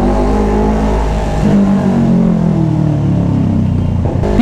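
A loud, deep NK400 motorcycle engine revs close by through an aftermarket exhaust pipe, with a rumbling, bassy exhaust note that rises and falls.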